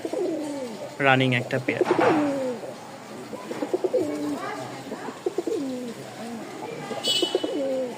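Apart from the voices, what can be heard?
racing pigeons cooing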